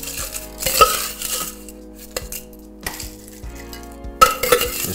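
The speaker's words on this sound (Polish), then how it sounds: "I dosypiemy troszeczkę lodu." Ice dropped into a cider and lime drink, with several bright clinking and rattling bursts of cubes against glass separated by short quiet gaps.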